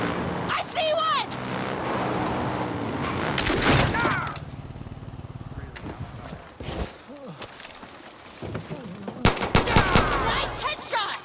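Gunfire in Far Cry New Dawn, bursts of rapid shots and cracks set against game noise and clattering, with voices talking over parts of it.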